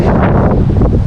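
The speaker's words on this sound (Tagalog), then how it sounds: "Malalakas ang alon. Tapos mahangin." Strong wind buffets the microphone on a small fishing boat at sea, with rough waves washing beneath in a dense, loud, continuous rush.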